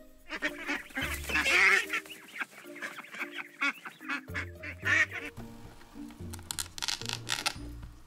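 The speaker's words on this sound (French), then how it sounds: "Un canard." Toy duck quacking from a wooden farm animal set, several honking quacks in short bursts over light background music, fairly close and clear.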